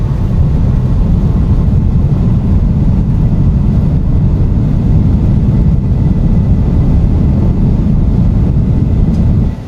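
Thrust reversers of an Xcrafts ERJ regional jet roar after landing in X-Plane 12, a loud, steady, broadband engine rumble heavy in the low end that holds for nearly ten seconds before easing off.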